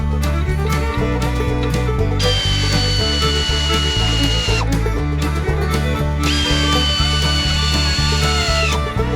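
Power tools tightening engine bolts on a Ford Ranchero whose engine is in pieces, giving repeated short bursts of whirring ratchet or impact noise with high-pitched whines in two longer stretches, close and loud.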